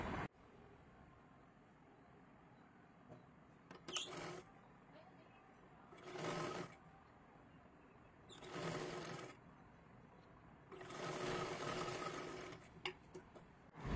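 A domestic sewing machine runs in four separate bursts while stitching a katori blouse, each run lasting about one to two seconds, close and fairly loud, with quiet handling between them.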